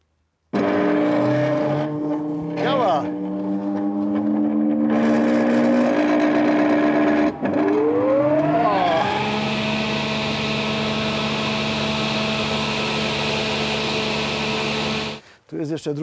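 An old machine in a carpentry workshop starts up with a rising whine, then settles into a loud, steady mechanical drone that keeps running for over ten seconds before cutting off abruptly.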